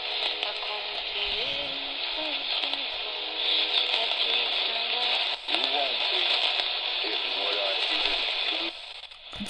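Distant AM broadcast from CJBC Toronto, received about 460 miles away at 860 on a RunningSnail MD-090 emergency radio: faint music and voice under a steady wash of hiss and static with fluttering fades, ending with a brief click.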